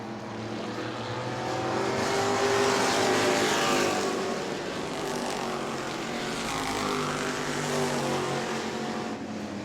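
E-Mod race cars on the track at New Smyrna, engines roaring loudly as a pack passes, the sound swelling and fading with a steady background drone.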